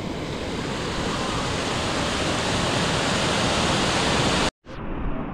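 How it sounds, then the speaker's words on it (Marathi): Swollen river water rushes during heavy monsoon rain in the Konkan countryside: a dense, steady roar fills the scene at a constant loud level, then cuts out briefly near the end before resuming. "कारण पाण्याचा प्रवाह वाढतोय"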